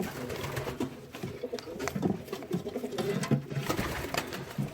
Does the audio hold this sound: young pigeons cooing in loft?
yes